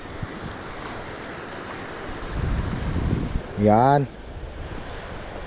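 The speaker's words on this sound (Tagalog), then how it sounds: "Oh, alon oh." Waves surge on a rocky shore at Sitio Tinagisan in San Francisco, Quezon, a steady wash with wind buffeting the microphone, swelling louder near the end while people talk briefly nearby.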